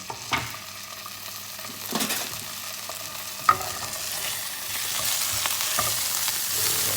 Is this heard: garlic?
yes